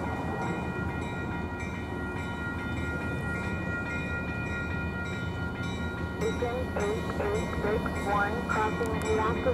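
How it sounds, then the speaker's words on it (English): A long CN freight train rolls past a railway crossing, a steady loud rumble and rail clatter throughout, with a horn sounding over it toward the end. "Yeah, they got a pretty long train on."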